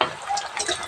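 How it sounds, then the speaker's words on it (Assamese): Snacks frying in hot oil in a wok give a short burst of bright sizzling and crackling, close and fairly loud, with no talking. "এইফালে তেল গৰম হৈ আছে, দুটামান দিলোঁৱেই, দেখিছে।"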